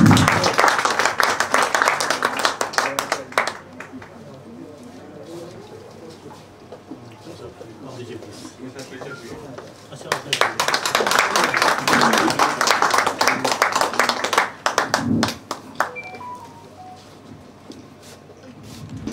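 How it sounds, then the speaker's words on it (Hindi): Audience applause at a women's college event in Baramulla, bursts of clapping from a crowd that rise and fall twice, with a host speaking between the rounds. "पुरजोर तालियां हो उनके लिए।"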